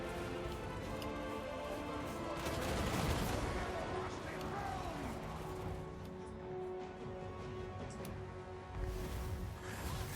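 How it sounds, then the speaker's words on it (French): Gyrocopter gunfire in the video game Total War: Warhammer 2, rapid battle shots and crackling volleys layered over a dense, continuous din of combat. "Ah putain il te tire dessus avec le gyrocoptère."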